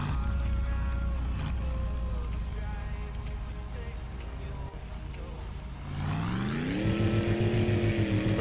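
A V8-swapped Kekmet tractor in My Summer Car idles with a heavy, constant engine drone, then revs up sharply near the end at a drag race start line, the pitch climbing and holding loud.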